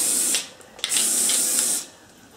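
Hair care spray is sprayed in two bursts, each a loud close hiss lasting about half a second to a second, with a small click between them and no talk.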